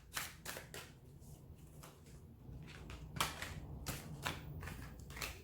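Tarot cards shuffled and handled in a quiet room, with several crisp flicking and slapping bursts spaced irregularly, close and fairly soft.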